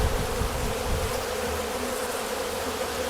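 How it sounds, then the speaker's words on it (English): Hornets or wasps swarm around a backyard beehive fitted with flow frames in its top box, making a dense, steady, close buzzing that holds evenly throughout with no talking. "Look at all these hornets or wasps."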